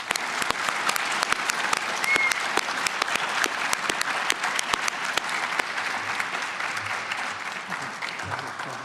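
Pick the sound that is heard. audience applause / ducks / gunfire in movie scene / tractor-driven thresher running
audience applause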